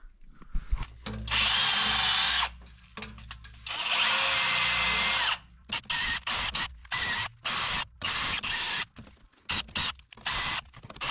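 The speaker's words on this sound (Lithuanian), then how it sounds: "Tai man dabar reikia išsukti šitą lambdos sondą" A power tool whirs in long bursts while backing out a heavily corroded lambda oxygen sensor on a car, followed by a series of short, choppy trigger pulls, loud and close.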